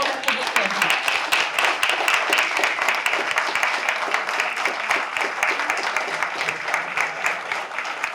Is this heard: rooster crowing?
no